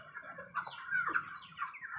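Thirty-seven-day-old broiler chickens on a poultry farm cluck and chatter softly in overlapping calls, fairly faint against a low background hum.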